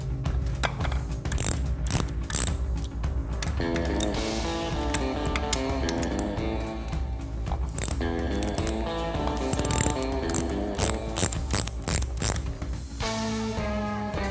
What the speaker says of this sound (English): there's a bunch of 1/2 inch bolts. We're gonna take them out in a crisscross pattern.